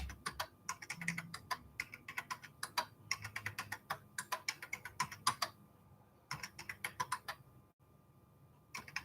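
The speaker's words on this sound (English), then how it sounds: "I can type fast." Fast typing on a computer keyboard comes in quick, clattering bursts of keystrokes with short pauses between runs, close and fairly quiet, with no voices.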